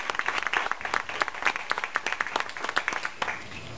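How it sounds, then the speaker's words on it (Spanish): A church congregation claps together in a lively, uneven burst of applause that runs steadily throughout, with sharp individual claps standing out at close range. "La Iglesia de Cristo da un saludo y un aplauso al Señor"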